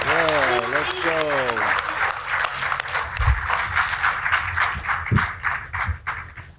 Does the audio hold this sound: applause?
yes